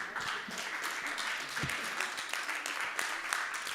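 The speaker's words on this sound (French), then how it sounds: "Vous pouvez applaudir, bien sûr." A church congregation applauds at the end of a Lutheran parish service, a dense steady patter of many hands sustained evenly throughout at moderate distance.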